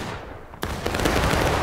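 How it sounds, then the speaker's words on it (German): Musket gunfire in the Civil War video game War of Rights: a sharp nearby shot cracks out, followed by a scatter of rapid distant shots rattling like a volley across the battlefield. "da sehen wir sogar Schüsse hinten"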